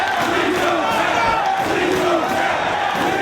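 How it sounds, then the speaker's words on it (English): Wrestling arena crowd at a Ring of Honor title match screaming in a loud, continuous roar with rising and falling swells and no break. "Listen to the crowd screaming, please don't tap at him."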